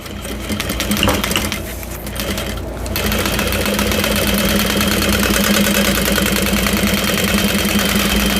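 A sewing machine stitches a basting seam at a quarter inch for a bowler bag, running in a loud steady mechanical whir with rapid needle clatter, briefly easing before resuming at constant speed.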